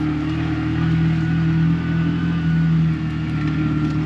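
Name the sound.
two-wheel-drive vehicle engine in first gear on sandy road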